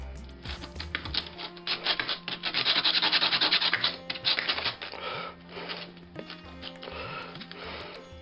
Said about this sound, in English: And here we're sanding both parts.